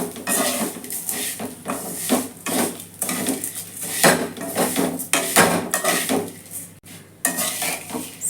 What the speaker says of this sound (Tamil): இப்போ அதே கடாயில் நம்ம சேமியா போட்டு வறுத்துக்கலாம்.